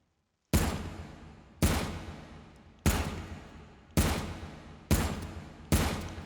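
Six single M14 rifle shots in the VR game H3VR, each a sharp loud crack with a short decaying tail, fired at an even, unhurried pace with roughly a second between them.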